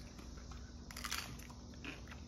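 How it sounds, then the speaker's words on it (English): A crisp bite into an Ortega taco shell, a short crunchy crackle near the mic over a steady low background hum, with no talking. "take a nice bite of that Ortega shell"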